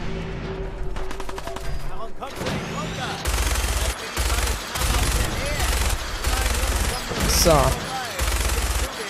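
Minigun fire in Fallout 4, loud rapid bursts of gunshots repeating in several long volleys that start and stop, with someone speaking briefly over the shooting.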